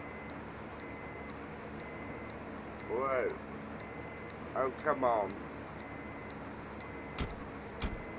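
An electronic alarm tone in Farming Simulator 19 after the power cuts out, a constant high pitched tone with faint beeps under brief exclamations from a speaker and two sharp clicks near the end.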